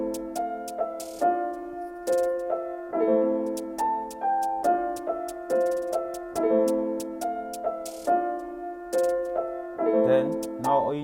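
Melodic drill beat built from a repeating harmonic melody loop with crisp hi-hats and layered counter snares on top, playing steadily with a regular rhythmic pulse and fairly loud throughout, no talking.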